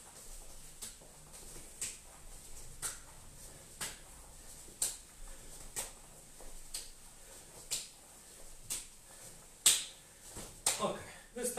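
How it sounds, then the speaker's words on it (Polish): Hand claps during a short warm-up exercise, sounding as a steady series of sharp, separate smacks roughly once a second over a faint background. "i klaszczemy łapki"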